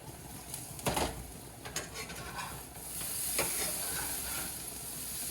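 Potatoes fry in a pan, a soft continuous sizzle with a few scraping stirs early on before the hiss swells and steadies, quiet and close.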